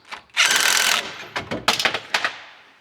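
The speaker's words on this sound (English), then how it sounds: "I also want to jack up the rear end itself to get these jacks out of the way" A car jack ratchets while lifting the rear end of a Dodge Dart, with a burst of harsh mechanical noise followed by a series of sharp clicks and clanks that taper off, close by.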